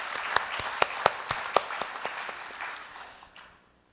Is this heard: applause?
yes